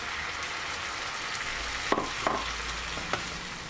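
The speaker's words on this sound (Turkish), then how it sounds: "sıvı yağ koyuyorum ve biberleri kavurmaya alıyorum" Peppers frying in oil in a pan while making garlic chicken bulgur pilaf, a steady broadband sizzle throughout with a few sharp stirring clicks near the end, close and alone.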